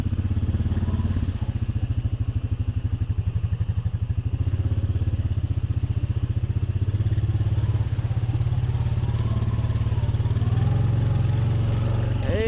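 An ATV engine runs in 4-wheel drive with the differential locked while making trails, a loud, steady mid-pitched putter that revs slightly as it works, close by and continuous.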